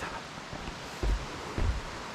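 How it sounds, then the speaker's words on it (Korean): Loud rushing mountain stream water near the Yonggigol trail entrance on Gayasan in summer, a steady broadband roar with a couple of heavier surges, no voices. "아 물소리가 우렁차네요"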